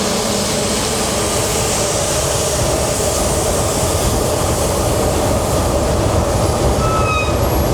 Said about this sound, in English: it seemed like the train came down at the perfect time